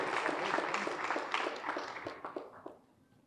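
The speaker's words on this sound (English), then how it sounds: "How about another round of applause for all of our award recipients?" Applause rolls through a firefighters' awards banquet crowd for the award recipients, a dense, steady patter of many hands that gradually thins and fades toward the end.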